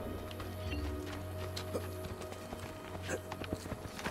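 A horse trots in Assassin's Creed II, its hooves clip-clopping in light, fairly even beats under a continuous low game drone.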